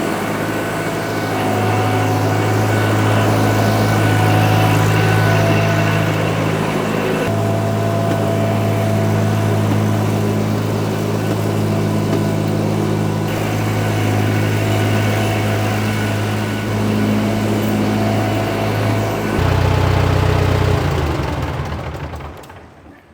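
An old ALMACO plot combine engine runs in a continuous loud mechanical drone, with the pitch and load shifting a few times before it fades near the end.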